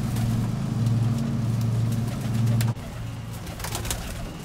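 Budapest High Flyer pigeons coo in a low, steady hum over a constant background drone, then the cooing breaks off and a fainter, scattered mix of bird sounds follows.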